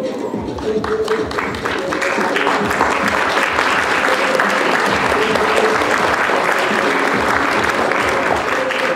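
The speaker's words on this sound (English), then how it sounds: "Let's have even more applause" Sustained applause from an audience at a college communication awards ceremony for award winners, loud and dense clapping lasting throughout, with occasional voices and cheers mixed in.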